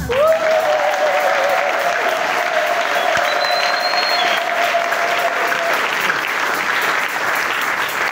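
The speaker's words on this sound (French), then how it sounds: "Il mérite nos acclamations." Congregation applauding in a church during a novena service, sustained dense clapping that fills the space evenly for about eight seconds, with a few sung or called tones riding on top.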